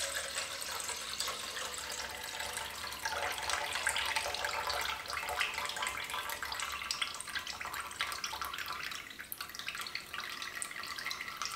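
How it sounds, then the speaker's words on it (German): Liquid left over from making butter in a Thermomix runs steadily into a kitchen sink, a continuous soft splashing trickle at moderate distance with no talking. "das könnt ihr jetzt entweder in eine Schüssel und die Schüssel nachher ausschütten oder gleich in euer Spülbecken ausschütten"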